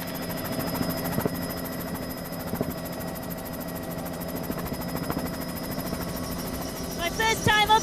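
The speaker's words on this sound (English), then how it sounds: "My first time up in a helicopter." A helicopter flies over Mexico City, its steady rotor thrum and engine whine loud and continuous throughout, heard from inside the cabin, with a brief burst of extra noise near the end.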